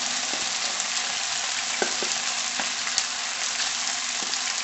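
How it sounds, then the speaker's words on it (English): Shrimp frying in a hot pan for a stir-fry, a steady dense sizzle running throughout with a few small pops and taps, close and even in level. "So now I'm going to put some of the shrimp in here"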